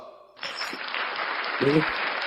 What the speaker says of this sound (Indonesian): Saya kasih penghargaan dengan aplaus.